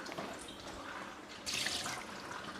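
Water poured off a pan in a kitchen while making buffalo wings, a soft trickle and drip that swells into a brief, fuller splashing pour near the middle, close and moderately quiet with no talk.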